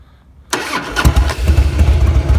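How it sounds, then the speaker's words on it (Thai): A 2006 Harley-Davidson Fat Boy motorcycle engine cranks and fires after a brief quiet moment, then settles into a loud, lumpy, throbbing idle close by. "ไหนลองสตาร์ทเครื่องกันดูซิ"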